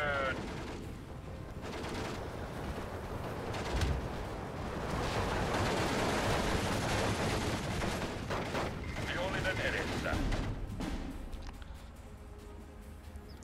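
Artillery and gunfire in Steel Division II, a World War II strategy game set in Finland, form a dense, loud rumble of continuous battle with overlapping blasts and shots, while voices talk at times.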